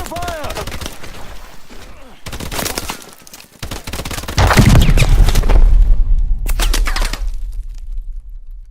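Rapid gunfire bursts in Call of Duty Advanced Warfare crack loud and close in dense volleys, broken by short pauses, with a deep booming rumble swelling in the middle.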